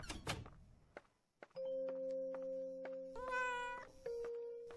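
A cat meows in the horror video game Layers of Fear, one drawn-out mew near the middle. It is set among thumps, a door-like knock and steady sustained tones, with no talk over it.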